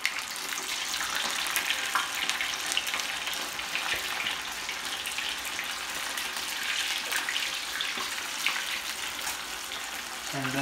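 Chicken wings deep-frying in a pot of oil, Jamaican KFC-style, give a steady, close crackling sizzle that holds evenly throughout with no pauses.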